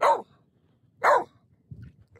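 Two loud, sharp barks from a nearby dog, spaced about a second apart, come out in a cold outdoor setting, followed by a softer low growl-like sound.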